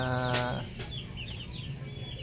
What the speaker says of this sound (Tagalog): Ito ang ating munting manukan.